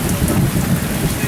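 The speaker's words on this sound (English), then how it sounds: "Storms began rolling in and the lightning started" Heavy rain with rumbling thunder near a remote cabin by the water, a dense continuous hiss over a low rolling roar, loud and steady throughout.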